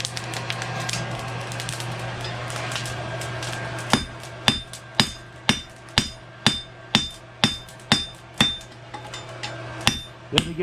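A hammer forges a horseshoe on an anvil, striking sharp metallic blows in a steady rhythm, about one every half second, over a constant low hum.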